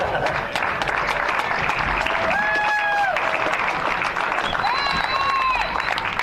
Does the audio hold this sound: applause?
yes